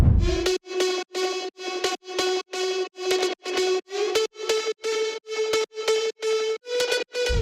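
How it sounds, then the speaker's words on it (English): Extra synth pluck layer in a progressive house drop, about fifteen short, bright, evenly spaced plucked notes in a tight repeating rhythm, clear and upfront with no other sounds. "In the second part of the drop, I added an extra pluck layer for variation"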